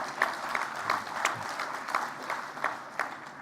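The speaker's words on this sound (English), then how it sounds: "You can clap for Jessica Cruz." An audience claps at an educational leadership award event, a moderate wash of applause with distinct individual claps standing out at irregular intervals, continuing steadily without talk.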